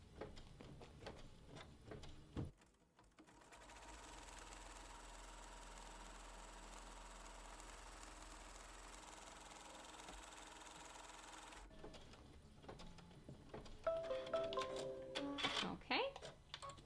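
An embroidery machine stitches design onto fabric with a steady, even mechanical hum and rapid needle chatter, running continuously after a few clicks, with quiet talk before and after.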